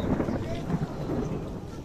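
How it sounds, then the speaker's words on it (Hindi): Thunder rolls on in a low, continuous rumble without a break, dense and muffled, with wind buffeting the microphone. "और बादल तो गरजी जा रहा है भाई कॉन्टिन्यूसली"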